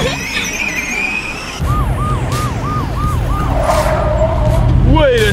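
A car pulls away with a loud, close engine roar, a siren-like warbling wail repeating over the motor and tires skidding at the end.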